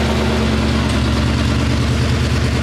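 A 1000hp Ford Mustang with its exhaust switched to loud mode idles close by, a steady, loud, deep engine drone with no talking.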